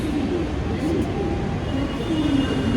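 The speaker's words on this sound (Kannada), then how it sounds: "ವೈಟ್ ಫೀಲ್ಡ್ ಕಡೆ ಹೋಗೋ ಮೆಟ್ರೋ ಬರ್ತದೆ" A Bengaluru metro train on the purple line heading toward Whitefield pulls into a station, giving a steady rumbling roar with a faint squeal of wheels throughout, near and loud, with no speech.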